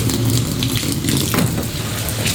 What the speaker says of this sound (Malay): Simbah air kuat sikit.